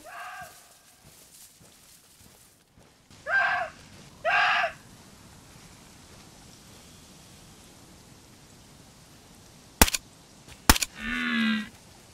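Two sharp, loud gunshot cracks in DayZ ring out close together while hunting, followed by a brief burst of noise, against a quiet ambient background.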